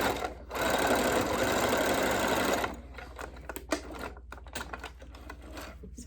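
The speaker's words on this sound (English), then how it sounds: "So now we have this straight stitch all the way around, and we're gonna do another one right here" A sewing machine runs a straight stitch along joggers fabric in a loud, continuous burst of rapid mechanical whirring and clatter. The motor then stops, leaving lighter handling noises from the fabric.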